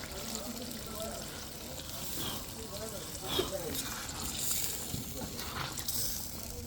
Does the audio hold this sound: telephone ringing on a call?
no